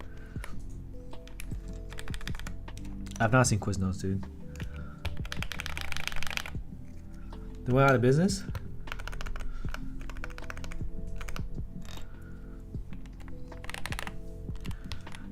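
A mechanical computer keyboard fitted with PE foam clacks in quick, steady bursts of keystrokes, up close, while people chat over the typing.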